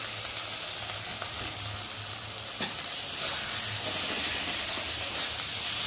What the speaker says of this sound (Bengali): টমেটো দেওয়ার পর একটু ভালো করে কষিয়ে নেব মশলাটাকে